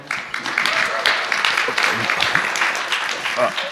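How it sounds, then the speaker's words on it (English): A crowd at a SXSW EDU 2024 panel claps steadily, a dense patter of applause filling a few seconds, with some voices mixed in. "Clap it up for our panel."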